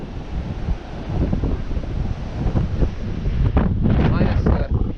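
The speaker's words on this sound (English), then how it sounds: "Minus the severe wind." Severe March wind roars across the microphone beside the Raccoon River while fishing, a loud continuous buffeting with gusts rising and falling.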